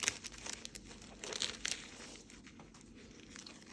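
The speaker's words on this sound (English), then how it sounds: "remove one of these sheets. just simply tear it out like this." A thin gold leaf sheet is torn from its booklet, making soft, quiet crinkling and papery tearing rustles in short bursts at close range.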